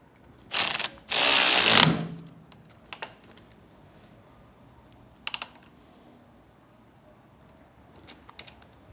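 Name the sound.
ratchet tightening handlebar riser bolt with 17mm socket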